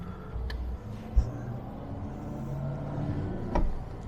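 Range Rover Classic V8 engine running on the move, a steady low rumble with a couple of brief louder bumps, heard from inside the cabin with no talking.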